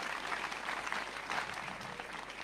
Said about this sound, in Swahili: Mpigieni makofi tafadhali